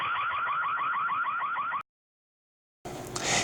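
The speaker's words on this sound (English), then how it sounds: "Linkage alarm sound turns on the siren when motion is detected by the camera" A security floodlight camera's loud electronic alarm siren, triggered by motion detection, warbles rapidly and repeatedly, then cuts off abruptly into silence before a burst of noise returns.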